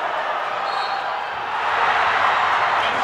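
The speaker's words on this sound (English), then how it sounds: "The crowd erupts" A high school basketball playoff crowd at Buchtel Griffins versus East Dragons sends up a broad roar of cheering that swells louder about halfway through and stays high.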